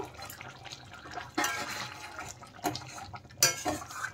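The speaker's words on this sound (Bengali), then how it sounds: "ঢাকনা উঠিয়ে এখন আমি দেখে নেব।" A lid lifts off a cooking pot of simmering egg-stuffed pointed gourd (dim potoler dorma) gravy, with two short metallic clanks, the second sharper, over a faint kitchen background.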